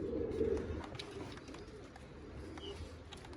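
Pigeons cooing nearby in a bird-keeping setting, a low, throaty, continuous cooing with soft rolling pulses over a faint background hiss.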